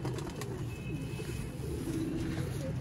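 Old-lineage Sialkoti pigeons on a rooftop give low, soft cooing murmurs layered over a steady outdoor background hum, continuous and moderately close.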